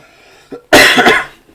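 A single loud, harsh cough bursts out after a faint short throat sound, then quickly fades to quiet.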